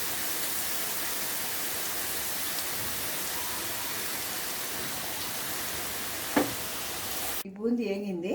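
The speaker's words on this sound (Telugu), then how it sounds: "ఈ బూందీ వేగింది." Gram-flour boondi drops fry in hot oil with a steady, close hiss and sizzle for most of the clip, then a voice starts speaking briefly at the very end.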